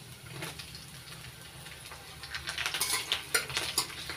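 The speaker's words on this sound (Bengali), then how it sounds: "একটু ভেজে নিচ্ছি।" Chopped garlic, ginger and green chili fry in a pan over high flame, a soft sizzle under brisk spoon stirs and metal scraping clinks that grow louder and quicker, nearby and without speech.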